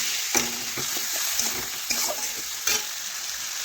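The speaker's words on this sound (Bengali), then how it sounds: "এখন নাড়াচাড়া করে একটু আমি সজনে ডাঁটা দেখুন কষে নিচ্ছি" Tender drumstick pods with a splash of water and turmeric powder being stirred in a pan, a soft steady sizzle broken by repeated scraping strokes of a spatula at an irregular rhythm, close and alone.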